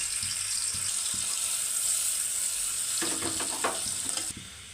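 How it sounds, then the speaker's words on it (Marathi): Onion drops into hot oil for mutton rassa and fries with a steady loud sizzle, then a few clattering stirs of the spoon near the end, no voices. "तेल गरम झालेलं आहे आता त्याच्यात आपण कांदा घालून घ्यायचा"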